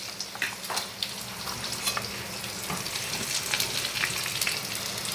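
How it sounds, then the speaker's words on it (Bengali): Pieces of bitter gourd coated in salt and turmeric fry in hot oil with a soft, steady sizzle, fairly quiet and close, broken by occasional light pops and stirring clicks. "উচ্ছেগুলো একটু নুন হলুদ মাখিয়ে ভেজে নেব"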